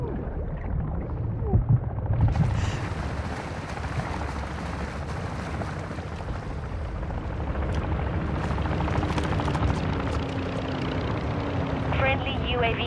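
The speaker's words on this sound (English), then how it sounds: "Cargo helo has entered the airspace." A military cargo helicopter flies in during combat in Call of Duty: Modern Warfare III, a deep rumbling rotor drone building steadily amid game battle noise.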